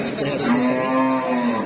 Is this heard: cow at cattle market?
yes